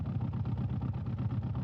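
Car engine in the BeamNG driving game, a steady low pulsing drone at moderate speed, fairly quiet and alone with no talk over it.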